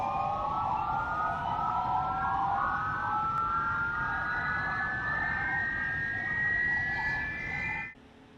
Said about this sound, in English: So that's engine 1 starting up.